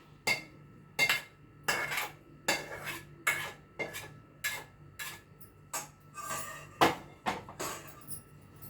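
Raw mango tamarind rice being mixed in a pan with a metal spoon, giving a steady series of sharp scraping clinks, about one to two per second, close and clear with no talking.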